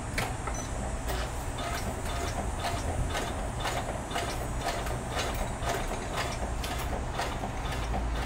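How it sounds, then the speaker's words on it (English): An embroidery machine running a basting stitch during appliqué cutwork, giving a steady mechanical whir with rapid, regular needle ticks that continue evenly throughout, close and moderately loud with no talking. "This is the only sewing I have to do, the basting stitch."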